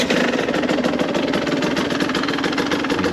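A 2022 KTM 150 XCW two-stroke dirt bike idles up close, holding a steady, even, buzzing engine drone throughout without revving.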